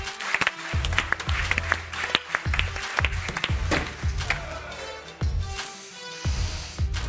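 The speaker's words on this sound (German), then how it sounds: "Haben die jetzt nicht applaudiert, das Publikum, oder was?" A studio audience at a sports show applauds with irregular, close claps and thumps over a steady wash of crowd noise, with voices mixed in.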